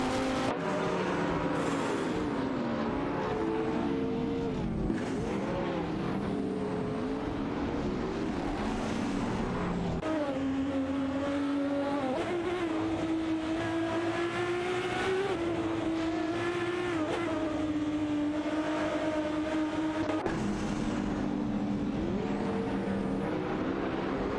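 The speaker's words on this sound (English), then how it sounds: "It's a showdown between the Porsche Carrera GT and the Alfa Romeo TZ3 Zagato." Engines of a Porsche Carrera GT and an Alfa Romeo TZ3 Zagato roar continuously during a video game race, with gear shifts that rise and drop in pitch and a steady loud drone and no talk.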